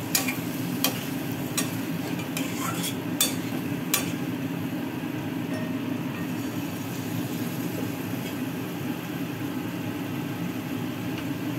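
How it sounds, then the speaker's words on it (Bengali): Spice masala with a splash of water stirred and sautéed in a pan while cooking dim kosha, a Bengali egg curry, giving a steady low sizzle with a few sharp scraping clicks early on and no talk. "একটু জল দিলাম, মশলাটা ভালো করে একটু কষিয়ে নিতে হবে।"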